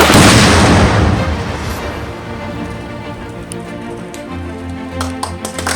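A loud military explosive ordnance detonation bursts at the start after a countdown, then a long rumbling decay with scattered crackles and pops as debris settles.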